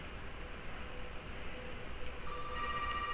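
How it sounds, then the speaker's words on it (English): A telephone rings inside a house in the horror game Resident Evil 7. It is a faint electronic ring that starts near the end over a steady, hissy ambient drone. "Yep, you get up here, you get a phone call."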